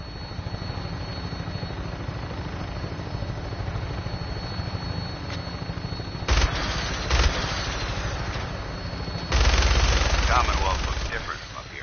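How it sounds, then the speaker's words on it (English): A minigun mounted on a helicopter in Fallout 4 fires amid a constant loud rotor drone, with dense bursts of rapid gunfire erupting twice over the steady engine roar. "That minigun in front of you is loaded and ready to fire."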